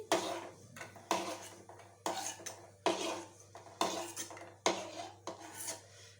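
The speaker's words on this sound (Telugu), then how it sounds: "వేగిపోయినాయి జీడిపప్పు తీసుకుంటాం ప్లేట్లోకి" Fried cashews being scooped out of a pan onto a plate, a series of close metallic scrapes and clinks of a spoon against cookware in a rough rhythm, about seven strokes, without speech.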